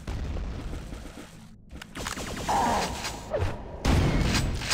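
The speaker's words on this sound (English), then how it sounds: "there were a lot of explosions" Explosions in the PC remaster of the first-person shooter Quake 2, with several dull booms and bursts of game combat noise in quick succession, some louder than others.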